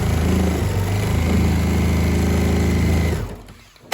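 A sewing machine runs steadily at a short stitch length, sewing through a fabric pad for an outdoor metal chair, a continuous close whir for about three seconds before it slows and stops.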